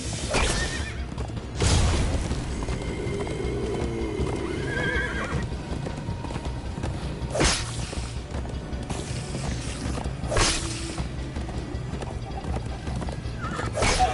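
A horse gallops and neighs in the video game Minecraft: Story Mode, steady hoofbeats with loud whinnies breaking through a busy game soundtrack, no talk.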